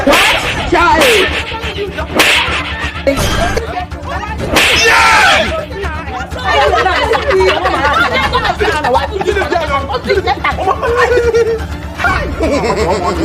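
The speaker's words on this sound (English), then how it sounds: "is that how they did the slap?" A slap from a slap-fighting competition, a sharp smack rising above loud crowd chatter, laughter and excited talk throughout a busy scene.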